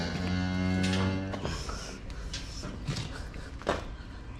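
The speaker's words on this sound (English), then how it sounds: "This is a hard calving for a cow." A cow struggling through a hard calving on a farm lets out one long, loud, close moo, followed by quieter rustling, footsteps and a brief sharp knock.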